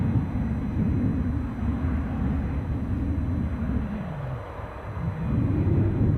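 A deep, distant roar rumbles steadily as a Bombardier Global 6500 business jet runs its engines on an airport's business jet parking area, dipping briefly before swelling again.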